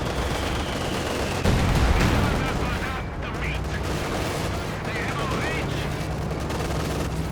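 Dense gunfire from the Company of Heroes 2 strategy game crackles continuously in rapid rattling volleys with distant booms, a steady wartime battle din.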